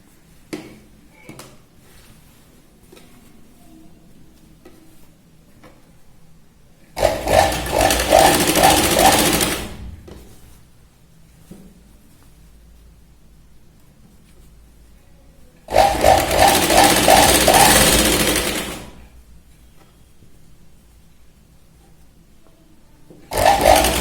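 Sewing machine stitching baby girl's clothes, two long bursts of rapid mechanical whirring several seconds each, separated by quiet pauses with small handling taps, and a third burst starting at the end.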